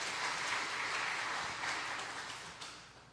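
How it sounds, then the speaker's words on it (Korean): A church congregation at Daejeon Presbyterian Church breaks into warm, sustained applause during a Sunday service; the clapping is dense and even, then gradually thins and fades toward the end. "같이 한번 격려의 박수 한번 보내드릴까요?"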